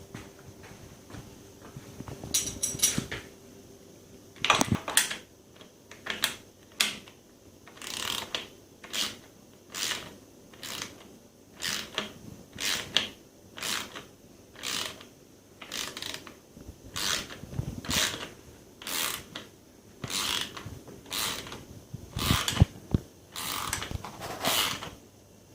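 Ratcheting wrench tightens a bolt on a Symoto 90 Bambino scooter, a rapid, steady series of close, crisp clicks in short bursts, with no voices.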